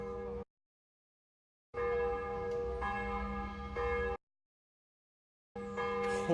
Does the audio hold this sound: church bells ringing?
yes